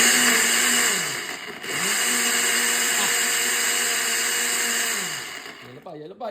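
A loud blender blending a Milo milkshake whirs steadily, briefly slowing and dropping in pitch twice before spinning back up, then winds down near the end.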